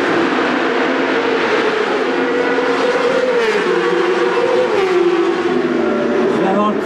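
Race cars in the 24 Hours of Le Mans 2025 roar back into motion in a steady, dense engine drone that rises slightly in pitch. The sound is loud and continuous, with voices heard over it.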